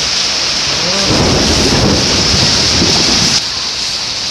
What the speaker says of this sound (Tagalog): Abutan pa ng ulan.